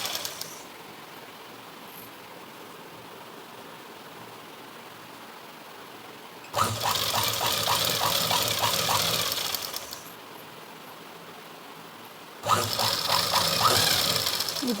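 A sewing machine stitches semi patiala pants in two loud bursts, one running about three seconds and a shorter one near the end, with quiet pauses and faint room noise between them.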